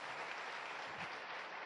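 Audience applause at a motivational talk, a steady wash of clapping that carries through the whole short stretch at moderate distance, with no voices over it.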